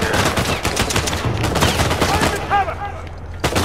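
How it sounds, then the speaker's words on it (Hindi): Rapid, loud gunshots from a firefight in Uncharted 4: A Thief's End, with bursts of shots in close succession through most of the moment and a final crack near the end. "पर यहाँ से तो शूट कर सकता हूँ"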